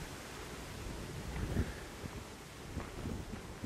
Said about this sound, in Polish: trochę wieje wiatr